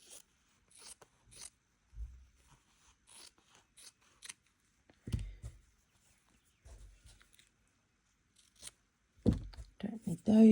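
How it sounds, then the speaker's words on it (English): Scissors snip through fabric in a slow-stitching craft session, a few short separate cuts spaced out under a quiet, close-up voice. "I'm going to cut the rest of that off"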